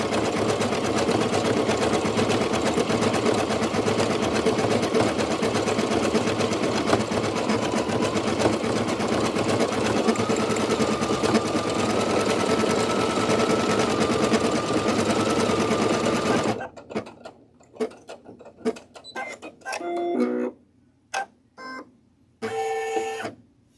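An embroidery machine stitches out a design with a rapid, steady mechanical whirring and clatter for about sixteen seconds, loud and close, then stops, leaving short intermittent clicks and a few brief bursts.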